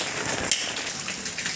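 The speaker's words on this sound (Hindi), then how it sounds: "यह 2:15 बारिश बंद होने का नाम नहीं ले रही है, और आज तो रुकने वाली भी नहीं है।" Steady rain falls continuously during a multi-day downpour in a hilly Uttarakhand village, a dense broadband hiss of drops on surfaces with a couple of brief sharper splashes, no voices.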